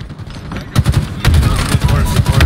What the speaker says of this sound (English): he threw a random grenade there and got me